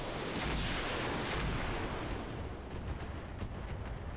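Mech weapons firing on a building in the RogueTech video game, a dense rumbling barrage of booming blasts that fades slightly toward the end, no talk.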